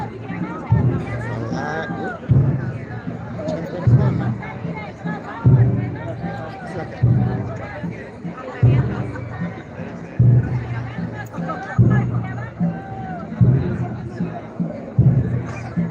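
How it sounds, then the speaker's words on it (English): Crowd chatter and babble from many people pushing through a street near a cathedral, with a close voice talking over the steady hubbub in uneven surges. "But the crowd is pushing through."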